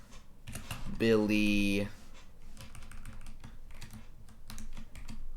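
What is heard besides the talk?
typing on a computer keyboard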